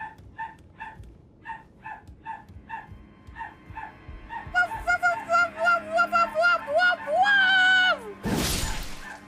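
A dog in the game Elden Ring gives a run of short, evenly spaced barks, then drawn-out whining, squeaky tones like something rubbed across glass, ending in a sudden loud burst.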